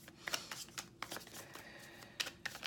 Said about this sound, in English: So this is a little bit more shuffling on camera for you guys who like to see it.